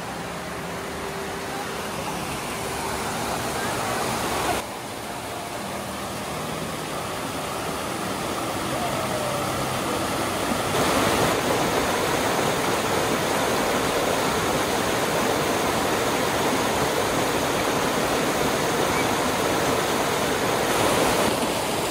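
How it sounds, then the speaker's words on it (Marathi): A continuous roar of rushing water from a village waterfall in rainy weather, loud and broadband, growing slightly stronger partway through with no voices. "हा असा धबधबा आमच्या इथे, जे पाणी खूप असतं."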